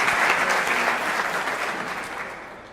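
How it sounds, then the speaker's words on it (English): Spectators applaud at an All-Ireland ladies senior singles 40x20 handball final, a loud burst of clapping that fades steadily over a few seconds with no talk over it. "crowd are really engaging in this All-Ireland Ladies Senior Singles final here today"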